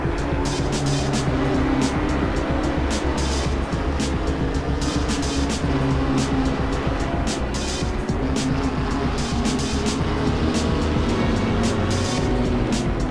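GT3 race cars in the Assetto Corsa sim at Zandvoort, engines roaring loud and continuous while the cars brake for turn 1, with rapid revving and downshift crackles throughout and no voices.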